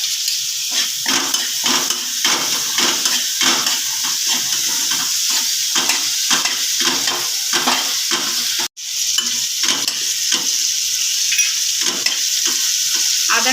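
Bay leaves and ginger paste with onion paste fry in hot oil for a Bengali snakehead fish curry, a loud steady sizzle broken by rhythmic scraping stirs, with one brief drop to near silence partway through.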